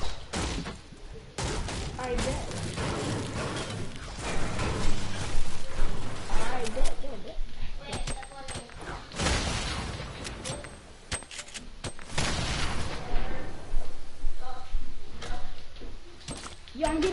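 Rockets and grenades fired in a shooter video game, with repeated bursts of explosions and gunfire throughout a busy firefight while a player talks over the action.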